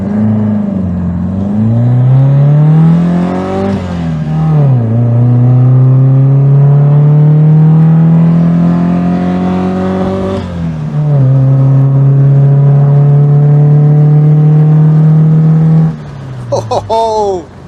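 A modified MGB sports car with a Type 9 Ford gearbox, open-roof engine note heard from on board: loud, steady revving that climbs through several gears with brief dips at each shift, strong and close throughout.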